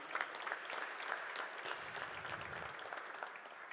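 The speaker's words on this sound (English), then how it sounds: "May we give a big round of applause," An audience at the Swaziland Educational Research Association launch gives a round of applause, steady dense clapping that fills the room at moderate level for the whole stretch.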